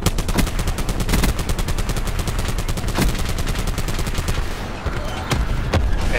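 Rapid automatic gunfire in Black Ops 4, loud close bursts of evenly spaced shots hammering for several seconds with a few heavier single cracks near the end.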